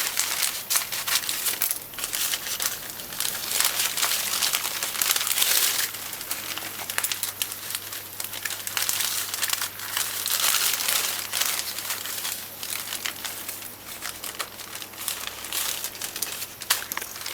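Steady crinkling and rustling of stiff grease paper being handled and cut with scissors, close and continuous, with no voices.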